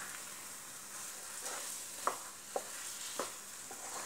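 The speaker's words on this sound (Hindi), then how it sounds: "जब ये फ्राई पैन छोड़ने लग जाए तो सोच लो हमारा हलवा बनके तैयार है।" Atta halwa cooking in a frying pan gives a soft, steady sizzle, broken by several faint scraping stirs from a spoon against the pan.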